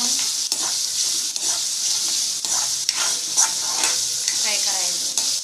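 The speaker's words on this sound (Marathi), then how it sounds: "व्यवस्थित भाजायचं आणि नरम व्यवस्थित भाजायचं." Vegetables with masala stir-frying in a pan, a steady loud sizzle running throughout with repeated scraping strokes of a spoon stirring through it, close and continuous.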